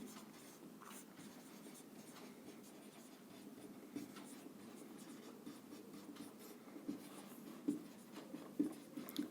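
A pen scratches across paper while working a geometry exercise on a right triangle, soft close strokes growing more tapping and emphatic toward the end.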